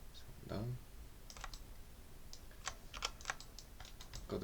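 Computer keyboard keys pressed while working in Maya, a few scattered quiet clicks and taps at uneven intervals, close and faint, with a brief soft voice at the start.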